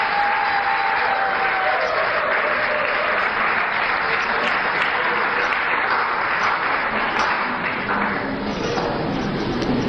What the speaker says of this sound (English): I think I need a better round of applause.